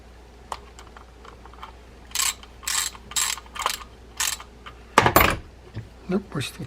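A Penn Spinfisher VI 5500 spinning fishing reel, freshly reassembled, cranked in short bursts of bright mechanical clicking and whirring, several separate turns close up with a louder, rougher burst near the end.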